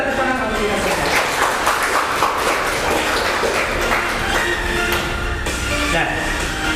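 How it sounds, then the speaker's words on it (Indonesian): Applause from a classroom of students, a moderately loud burst of mixed clapping with some taps and thumps, spread across several seconds with voices mixed in. "Beri tepuk tangan kalau kita selesai."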